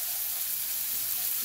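Garlic, chilies, sesame seeds and mustard seeds fry in hot oil with a steady, even sizzle and hiss. No voice is heard over it.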